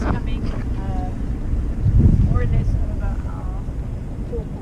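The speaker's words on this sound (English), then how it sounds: "The wind is coming across our beam at the moment." Wind sweeps across a sailboat off Cape Town, a steady low rumble buffeting the microphone and swelling into a stronger gust midway, while people talk faintly underneath.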